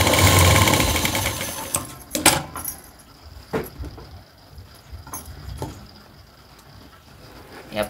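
A sewing machine stitches tucks along a fabric edge in a short loud burst at first, followed by scattered clicks and knocks of handling.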